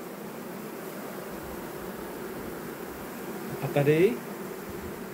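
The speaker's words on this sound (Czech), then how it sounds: "Tady včeličky připravený na zazimování." Honey bees buzz around a hive readied for winter outdoors, a soft steady hum under background noise that swells briefly near the end, with a voice speaking in Czech.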